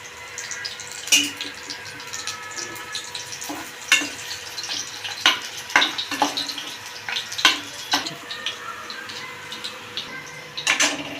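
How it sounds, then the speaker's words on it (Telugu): Tempering spices of chana dal, mustard seeds and dry red chillies in hot oil: a faint continuous sizzle punctuated by sharp crackles, pops and clinks of a spoon against the pan. "చలపప్పు ఆవాలు ఎండుమిరపకాయలు పోపులు కూడా వేసుకుంటున్నాం"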